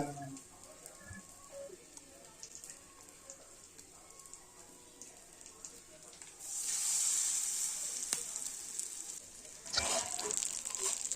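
Batter-dipped tomato sauce cutlets frying on a dosa pan: a quiet crackle swells into a loud, steady sizzle partway through, with a brief clatter near the end.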